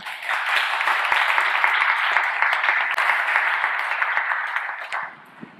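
Church congregation applauds together in a dense, steady burst of hand clapping that holds for about five seconds before tapering off at the end.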